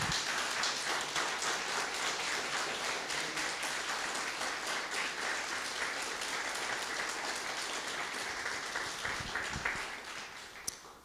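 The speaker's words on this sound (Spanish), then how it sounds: "Dale un aplauso al Señor," Sustained applause from a large church congregation, dense steady clapping for about ten seconds before tapering off at the end.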